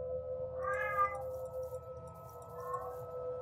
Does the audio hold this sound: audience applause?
no